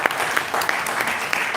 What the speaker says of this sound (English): Please do give the Vice President another round of applause.